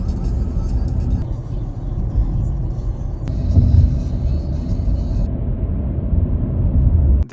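Car driving along an open road in Cyprus with no traffic, a continuous low rumble of engine and tyre noise at steady level, slight swell midway, with no talking heard.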